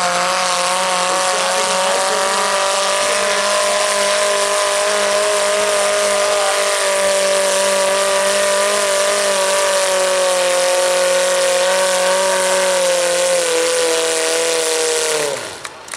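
A stock truck with a 1.6 liter Chevette motor races on the track, a loud sustained engine whine holding a steady pitch for many seconds, then cutting off abruptly near the end.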